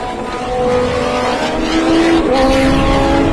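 US Legend race cars circle Thompson Speedway during a race. A steady, fairly close engine drone rises and shifts in pitch as cars pass, with no voices.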